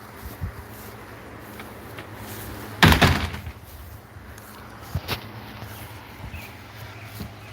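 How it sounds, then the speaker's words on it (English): A shed door is swung shut with one solid wooden thunk and a brief rattle, close and moderately loud, followed by a few faint knocks and creaks in a quiet space. "So the right half, here, if I close this door,"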